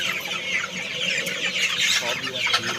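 Many young chickens on a poultry farm cluck and chirp together in a dense, continuous chatter that is close and fairly loud, with faint background noise of the shed.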